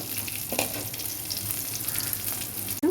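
Green chilies fry in hot oil for a dosa and idli chutney, giving a steady, close sizzle and crackle throughout, with a brief stir-like bump near the start and a knock at the very end.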